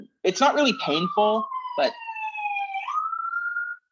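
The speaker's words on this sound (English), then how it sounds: "that's the ambulance just turned down the street" An ambulance siren passing along a street, one long steady wailing tone that falls slowly then rises, heard under and after a person talking nearby.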